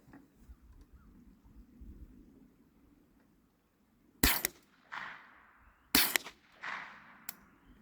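Rifle shots crack during group testing for coyote hunting: two loud, sharp reports several seconds apart, each trailing a rolling outdoor echo, after a quiet stretch of faint background.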